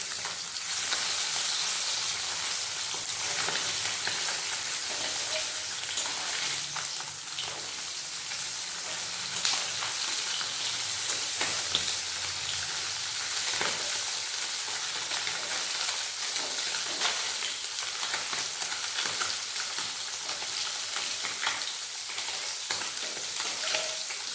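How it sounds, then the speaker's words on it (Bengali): Small puti fish frying in hot oil for a Bengali tel jhal, a steady dense crackling sizzle that runs without a break throughout and stays close and fairly loud, with no voices. "মাছগুলো ভালোভাবে ভেজে নিয়েছি"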